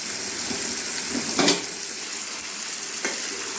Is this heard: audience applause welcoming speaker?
no